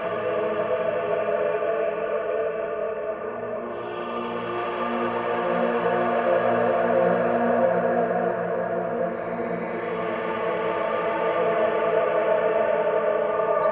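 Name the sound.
heavy reverb effect, almost all wet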